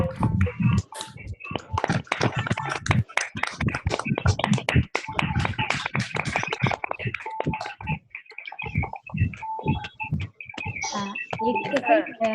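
Participants in an online meditation session applaud together, giving scattered, crisp, compressed clapping that comes in bursts and then thins out, with voices mixed in.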